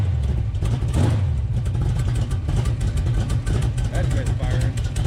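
A big block engine with a tunnel ram in a Dodge D100 truck runs rough and misfiring, a loud, uneven low rumble filling the clip with irregular stumbles while people talk over it.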